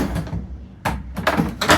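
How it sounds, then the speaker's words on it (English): A detergent tray slides back into a GE washer, with a soft rubbing scrape followed by several sharp plastic clacks and bumps as it seats, close by. "put the tray back in"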